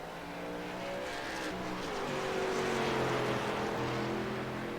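A stock car in a racing video game pulls out of the pit lane, its engine note climbing through rising harmonics as it accelerates, with a brief tire squeal, loud and continuous throughout.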